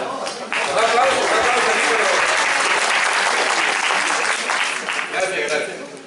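Sustained applause from an audience at a creative writing gathering, a dense steady wash of many hands clapping that swells quickly and holds for several seconds before tapering slightly.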